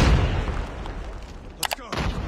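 Grenade blast and gunfire in the mobile shooter Call of Duty Mobile, a low rumbling boom followed by a couple of sharp close shots, with battle noise throughout.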